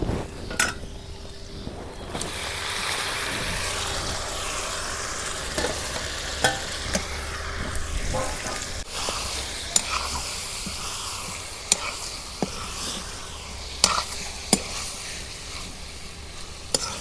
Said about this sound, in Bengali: এখন মাংসগুলো দিয়ে দিব।